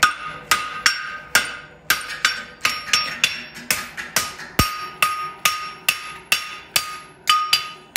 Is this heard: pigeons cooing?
no